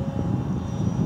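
A fixed-wing airplane drones steadily with a low, continuous engine rumble, moderately distant and fairly quiet, with no talk over it.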